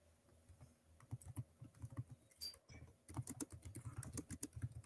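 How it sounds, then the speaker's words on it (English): Typing on a computer keyboard, with quick irregular clusters of light clicks, fairly close and soft, pausing briefly midway before resuming, alone without talk. "I hear typing."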